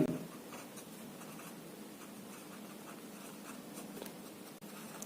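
A pen scratches across paper while a math problem about an equilateral triangle is written out. The strokes are faint and continuous, close-up and quiet, with no voice heard.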